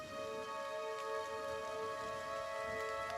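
Steady rain ambience from Pillars of Eternity: Definitive Edition, an even hiss of falling rain layered with sustained tonal drones, constant and unbroken throughout without voices.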